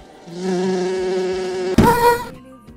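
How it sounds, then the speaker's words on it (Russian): A steady, droning wasp buzz hums for nearly two seconds, then a sharp scuffing burst cuts in before fading to near silence. "Что, еще осы?"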